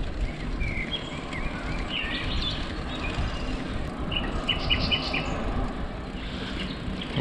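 A nightingale sings on a summer outing in Greece, its faint, high, varied phrases heard at a distance over a steady outdoor background noise, with no one talking.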